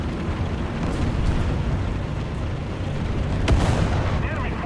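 A tank cannon fires a high-explosive shell in War Thunder, one sharp boom rising out of a constant rumble of engine and battle noise.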